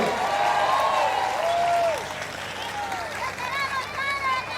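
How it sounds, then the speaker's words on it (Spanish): Congregation applauding a priest at a church gathering in Tijuana, Mexico, steady broad clapping with voices and tonal sounds layered over it, easing slightly partway through. "Fuerte el aplauso para el Padre Víctor."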